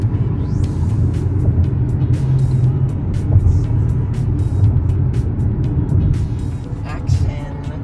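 Steady low road rumble of a car driving on a road trip out of the DC area, continuous and close from inside the cabin, with faint clicks and rustles on top and no speech.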